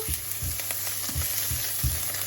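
Onion with minced garlic frying in a pan, a constant sizzle broken by several rhythmic spatula scrapes and stirs, close up and with no talking.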